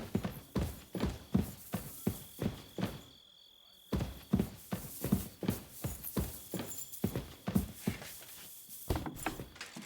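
Horse hooves clip-clop at a steady walking pace in Kingdom Come Deliverance 2, close and clear, with a brief gap partway through and no voices.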